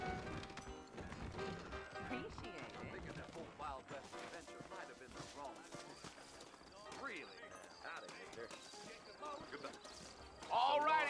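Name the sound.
horses trotting, from the video game Red Dead Redemption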